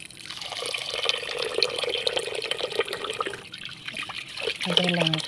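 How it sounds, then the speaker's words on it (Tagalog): Water runs and splashes steadily into a cooking pot, with dripping and trickling sounds throughout and a faint voice near the end. "Dito na lagyan na natin ng tubig."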